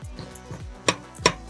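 A big ladle smashes and breaks up microwave rice, giving two sharp, close knocks against the bowl after a few softer scraping thuds, with no talking.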